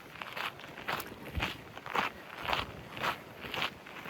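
Footsteps crunching outdoors on a walk, about two steps per second, steady and close, with light rustle and a faint wind noise underneath.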